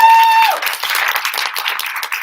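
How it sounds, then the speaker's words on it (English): Audience at a live Q&A evening gives a brief round of clapping and applause right after a faint tone, close and crisp, fading over about two seconds. "sometimes you might get a round of applause"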